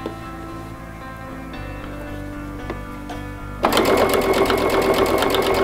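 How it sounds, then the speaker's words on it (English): Sewing machine stitching a fabric baby bib along the presser foot, a quiet steady hum that jumps to a loud, fast, even rattling whir of stitches for the final seconds, close up with no talk. "Just guiding it right along my presser foot inside there."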